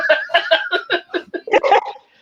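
A dog barks in a quick run of about ten yaps and yips in a bar or brewery, loud and close, with no talk over it.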